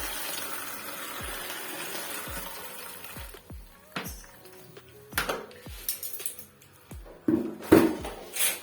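Water draining from a concealed toilet cistern for a wall-hung WC, heard as intermittent splashes and gushes into a bucket, with sharp knocks and clatters in between, close and fairly quiet, with no talk.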